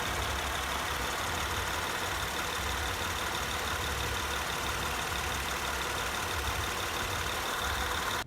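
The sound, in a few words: car engine running with leaking head gasket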